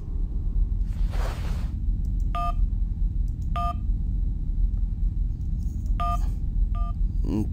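Cell phone keypad dialing in the Syberia adventure game, a few separate bright two-tone key beeps spaced irregularly over a steady low rumble, with a soft whoosh near the start.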